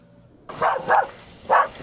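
A police K-9 drug dog barks at a traffic stop, three quick close barks in a short burst after a quiet moment.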